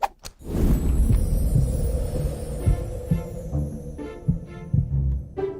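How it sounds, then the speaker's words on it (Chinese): A human heartbeat, heard as a steady, low throbbing pulse with soft repeated thumps, loud and close throughout with a faint hum underneath and no talking. "是什么声音？ 心跳。 是人的心跳吗？"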